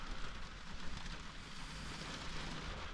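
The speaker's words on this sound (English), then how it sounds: "Still raining." Rain falls outside a car at a stormy car-camping spot, a steady faint hiss of drops with a soft low rumble beneath, no voices.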